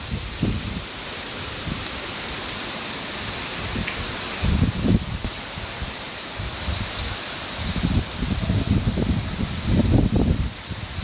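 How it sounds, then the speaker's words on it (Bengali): Strong wind roars continuously with a broad hiss, and deep gusts buffet in bursts several times, loudest near the end. "প্রচণ্ড জোরে হাওয়া দিচ্ছে।"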